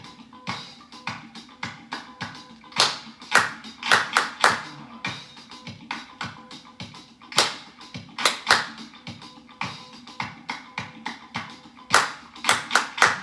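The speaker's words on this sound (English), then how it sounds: "now I'm going to clap some rhythms." Crisp hand claps beat out varied rhythmic patterns, single claps alternating with quick clustered bursts, close and clear over a quiet room during a children's hand-jive listening exercise.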